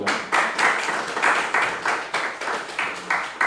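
Rhythmic group clapping from a church congregation, steady beats repeating about every quarter second, fairly close and moderately loud, with no talking over it.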